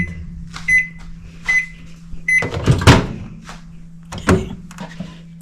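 A repaired microwave oven with a replaced synchronizing motor hums steadily at a low pitch, with short beeps and a couple of door or cupboard thunks on top.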